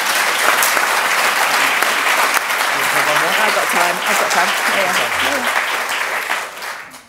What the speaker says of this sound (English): So another round of applause, please.